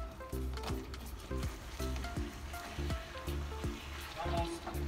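Peanuts being stirred into hot, light caramel in a pan for homemade Snickers, giving a run of rhythmic, repeated thumps and scrapes with a soft sizzle underneath, close and steady.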